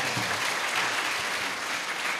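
An audience at a church teaching session claps together in a steady, dense patter that holds at an even level for the full stretch with no voices over it.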